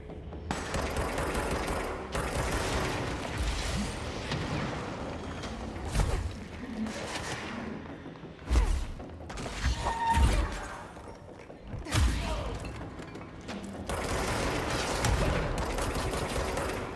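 Sniper and other gunfire in the video game Control comes in dense bursts with sharp cracks and rattling volleys, loud and close, separated by brief quieter gaps.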